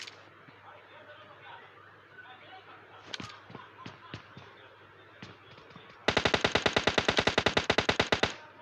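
Gunfire in a PUBG fight, first a few scattered single shots under quiet talk, then a loud rapid burst of automatic fire lasting a couple of seconds near the end.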